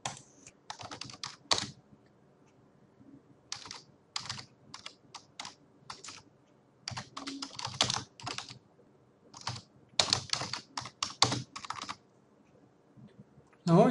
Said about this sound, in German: ich kann hier ebenfalls wieder eine Textnachricht eingeben